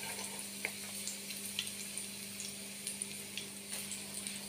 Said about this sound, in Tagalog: Magigisa-gisa muna tayo, guys. Ayan. Inuna ko yung bawang.